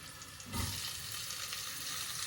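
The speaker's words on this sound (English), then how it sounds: "So this is garlic, and frying the garlic there." Garlic and spring onion start sizzling loudly as they hit a hot saucepan, then keep up a steady crackling fry close by.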